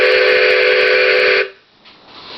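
A train whistle, squeezed all the way, gives one loud, steady chord-like blast for about a second and a half, then cuts off abruptly into quiet.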